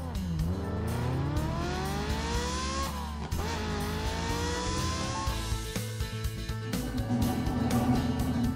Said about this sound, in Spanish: Este coche de policía es Poli Robocar.